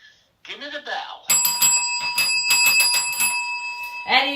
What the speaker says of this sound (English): Give me the bell.